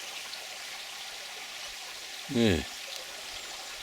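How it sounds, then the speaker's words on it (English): A creek runs steadily along an old gold-mining trail, its broadband wash of flowing water constant and fairly near, with a single brief word spoken partway through. "Another creek there."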